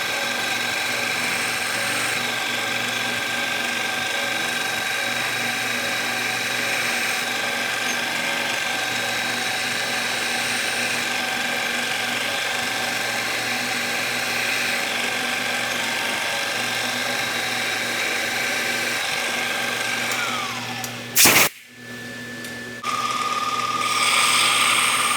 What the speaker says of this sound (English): I'm going to take this over to the mill and put a 5 by 100 millimeter bolt pattern into it